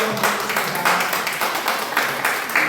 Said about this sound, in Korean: 함께 잘하셨다고 환영의 박수.